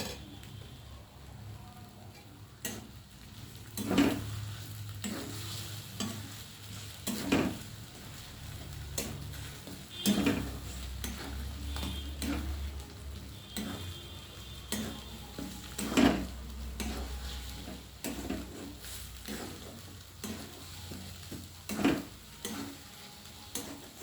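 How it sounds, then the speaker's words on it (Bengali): Beaten egg being stirred into mashed roasted eggplant in a pan, a soft steady sizzle broken by spaced scrapes and clinks of the spatula against the pan, close and fairly quiet, with no talking. "এবার ডিমটা দিয়ে আমি বেগুন পোড়াটাকে খুব ভালোভাবে মিশিয়ে নেব ডিমের সঙ্গে।"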